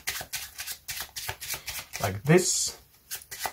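A pile of playing cards being shuffled by hand during an impromptu card trick, with several quick riffling bursts close up while someone talks over them.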